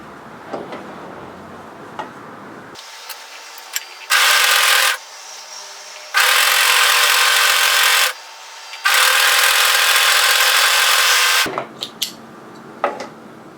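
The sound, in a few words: overlocker sewing the long curved edge of a hood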